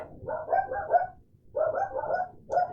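Several dogs bark in quick, muffled bursts, two clusters of barks separated by a short pause and then a third brief outburst, sounding somewhat distant and without any talking.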